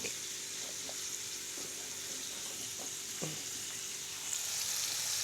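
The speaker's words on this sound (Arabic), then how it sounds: "وبتحطوهم في الزيت" Flour-coated pieces fry in hot oil with a steady broadband sizzle, close and continuous, with a few soft clinks and a brief scrape partway through.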